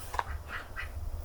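Farmyard ducks quack a few times in short nasal calls, close but fairly quiet against a low background rumble, with no talking.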